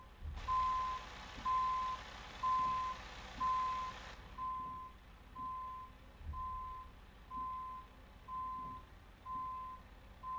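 Reversing beeps from a truck backing a trailer in American Truck Simulator, a steady evenly spaced series of about ten loud beeps over a low engine idle.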